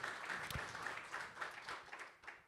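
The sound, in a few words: applause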